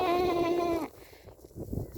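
A goat bleats once in a long, wavering, strongly voiced cry lasting under a second, close to the recorder on a farm beside a house, followed by quieter rustling and faint outdoor noise.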